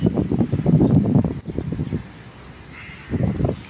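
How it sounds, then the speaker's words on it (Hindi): Cool wind gusts across the open platform of Okara Cantt railway station, buffeting the microphone in loud rumbling bursts that ease off briefly before rising again. "इतनी ज़बरदस्त ठंडी हवा चल रही है"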